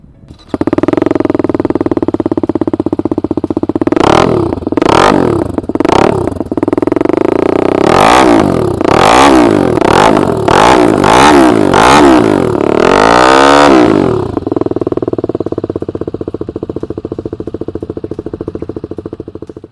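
A loud TVS Apache RR310 BS6 motorcycle with an aftermarket exhaust, close by, revs in sharp bursts, then gives a longer rising rev before dropping back to a throaty idle.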